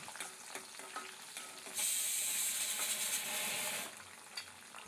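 Peeled garlic sautés in oil with a soft sizzle and light stirring taps, then a louder burst of hissing swells for about two seconds before settling back, close and fairly quiet with no talk.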